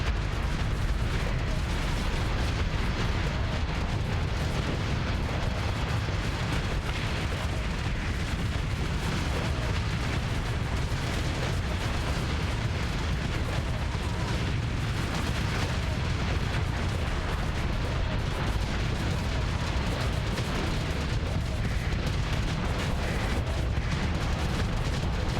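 Missiles launching and detonating during a large space fleet battle in Starsector, heard as a dense, continuous roar of booms and bursts that stays loud and steady throughout, with no voices.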